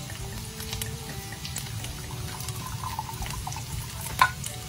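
White cooking wine poured into a hot pan with salmon and shrimp, a continuous watery sizzle and splash with a slight sharp clink near the end, no talking.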